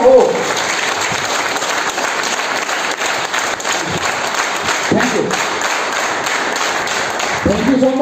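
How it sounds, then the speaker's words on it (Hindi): Sustained applause from an audience at a mentorship talk, dense steady clapping that fills the room at close range, with a few voices rising briefly near the end. "अपने लिए आप ताली बजा सकते हैं।"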